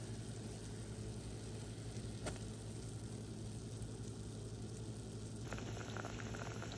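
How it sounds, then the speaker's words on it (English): A pot of water with four tablespoons of cream of tartar and broccoli at a steady rolling boil, a continuous close bubbling roar with no pauses. "we are now at a boil for the 4 tablespoons of cream of tartar that have been added"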